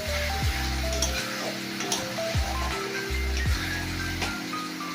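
Chopped tomato and green chilli fry with onions for a curry, a continuous close sizzle broken by rhythmic spatula scrapes and ticks against the pan, with no talking.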